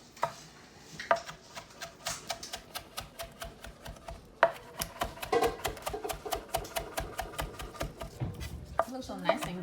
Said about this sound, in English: I'm chopping up some parsley.